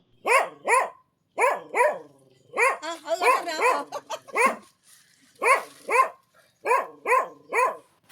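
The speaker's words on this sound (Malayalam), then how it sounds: "2 പട്ടിയുണ്ട്" Two dogs bark close by in sharp bursts, single and paired barks spread across the stretch with short gaps between them and no talk.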